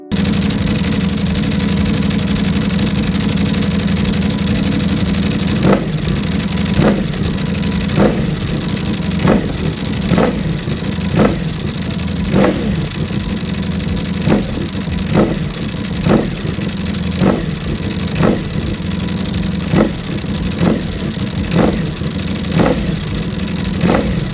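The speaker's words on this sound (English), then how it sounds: "We are going to start the bike so you can hear the Akrapovic exhausts." A Ducati Panigale SP2 motorcycle engine with loud aftermarket Akrapovic exhausts idles, then blips its throttle in a string of sharp, evenly spaced revs, close up.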